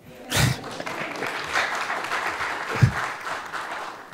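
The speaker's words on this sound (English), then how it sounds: "Please clap for them" Brief audience clapping at a conference on East African sustainable development, a moderate patter of hands with a couple of sharper accents, fairly close and steady.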